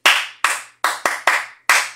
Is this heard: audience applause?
yes